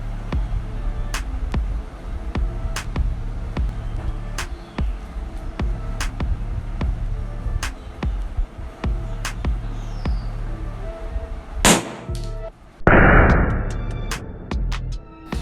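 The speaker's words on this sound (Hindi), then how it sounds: "ये काफी लाउड ब्लास्ट था गाइस" Electrolytic capacitors wired with reversed polarity burst in a failure test, a sharp loud pop and hiss near the end following a run of repeated clicking crackles.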